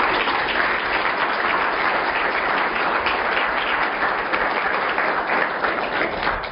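An audience at a biomedical imaging seminar applauds steadily to welcome the speaker, a dense, even wash of many hands clapping at moderate loudness with no talk over it.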